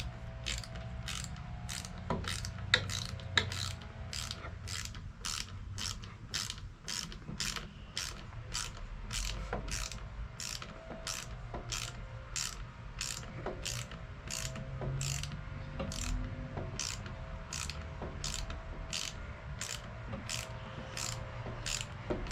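A ratchet wrench fitted with a 10mm socket tightening a bolt, a long run of fast, evenly spaced ratcheting clicks, close and crisp over a low background hum, with no talking.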